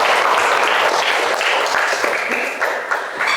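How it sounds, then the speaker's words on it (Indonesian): A group of students in a classroom gives a lively round of applause, a dense, close wash of clapping with a few sharper individual claps standing out throughout. "Tepuk tangan dulu buat semuanya."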